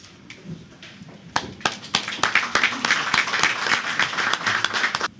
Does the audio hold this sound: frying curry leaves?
no